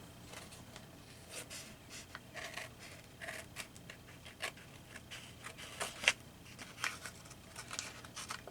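Paper cut with scissors for small mushroom twinchies, giving quiet, close, irregular snips and rustles spread across the stretch with no talk.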